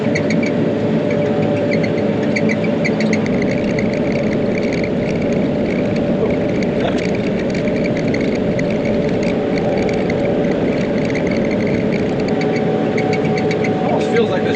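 A tractor engine labors steadily while pulling a heavy chopper across a pasture, giving a continuous close mechanical drone with faint clanking over it.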